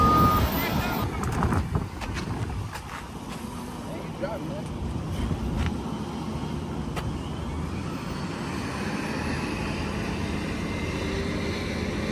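Reversing beeps from a tractor loading a car onto a trailer, heard alongside a steady engine rumble and outdoor noise, with some clattering early on.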